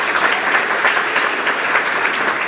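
Students at a grades 4–6 awards ceremony clapping together, a dense steady round of applause from a crowd throughout, with no voices over it.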